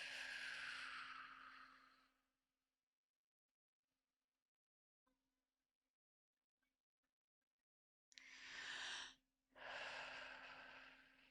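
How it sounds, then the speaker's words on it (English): Slow, calm breaths during meditation, a long airy exhale at the start, then near silence for several seconds, then two more deep breaths close to the microphone, with no talking. "All I'm doing is just breathing, letting it settle to see where it lands."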